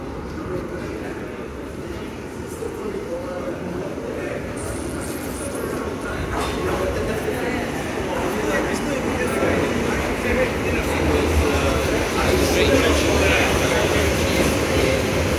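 A London Underground train at Bank Station, a steady rumbling roar of the train in the tunnel that slowly grows louder and fuller over about fifteen seconds, with faint rail clatter and no clear talk.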